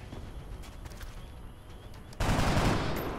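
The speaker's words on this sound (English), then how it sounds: "I have a lot of shots to fire at it" Weapon fire in XCOM: Enemy Within, a sudden loud burst of automatic gunfire erupting after a quieter stretch of low game ambience and holding to the end.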